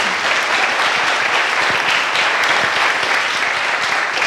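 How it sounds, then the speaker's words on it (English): A large audience at an Ice House event for Erie's public schools gives a loud, sustained round of applause, a continuous dense clatter of many hands throughout. "So please, a big round of applause to Beth Stimmer for bringing this to us."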